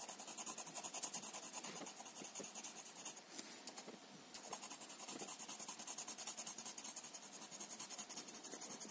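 Colored pencil rubbing steadily across paper while filling in a drawing, a soft continuous scratchy hiss with short pauses, faint and close.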